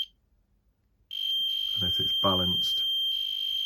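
A ghost-hunting static field detector pod sounds a steady, high-pitched electronic alarm tone that starts abruptly and keeps going while someone talks over it.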